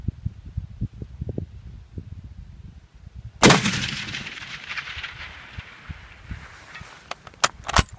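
A single loud Springfield M1903 rifle shot cracks out, fired at a 700-yard target, breaking a quiet scene of faint rustling and leaving a long rolling echo that fades over several seconds, with a few small clicks afterward.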